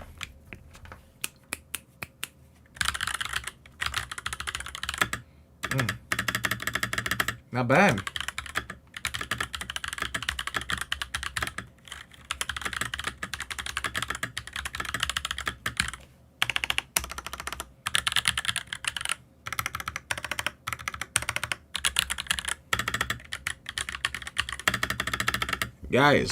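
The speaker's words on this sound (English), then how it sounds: "let me do a quick typing test" A Redragon mechanical keyboard clatters through a fast typing test, keystrokes rapid and close with brief pauses, and a voice speaks briefly over it.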